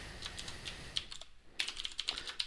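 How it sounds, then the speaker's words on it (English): Fast typing on a loud Das mechanical computer keyboard, crisp clacking strokes in quick uneven bursts with a short pause in the middle, close and prominent with no talking. "In case you're wondering why my keyboard is so loud, it's Das keyboard. It's one of the loudest keyboards you can buy."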